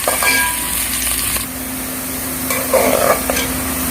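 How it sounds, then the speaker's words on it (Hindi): Ingredients for a Pakistani-style chicken biryani fry and brown in a pan. A loud, close, continuous sizzle runs throughout, with repeated scraping and clinking as they are stirred. "बस थोड़ी देर और इसको भूनेंगे।"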